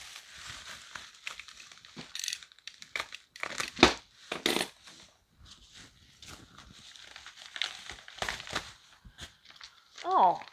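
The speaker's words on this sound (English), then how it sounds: "Okay, I'm gonna open this. It's hard to see what it is inside the bubble wrap." A package wrapped in bubble wrap being opened, with close crinkling, crumpling and tearing of plastic in irregular bursts, and a brief squeak near the end.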